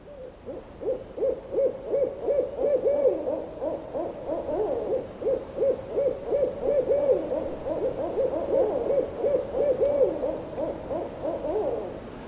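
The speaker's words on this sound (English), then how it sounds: "If I play those three owls together" Several owl hoots overlap in steady, repeating rhythm, layered into a continuous chorus of soft low calls with no talking.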